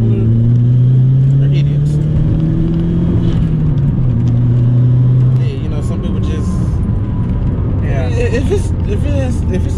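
A loud Volkswagen MK4 GTI with a two-step launch control holds a steady droning rev that wavers and then drops away, leaving a rumbling idle with crackles. A person talks over it.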